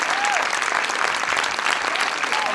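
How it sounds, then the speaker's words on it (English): Steady, loud applause from a premiere audience at the Berlin screening of Burlesque, dense and continuous throughout, with a faint voice briefly rising over the clapping. "This is your applause."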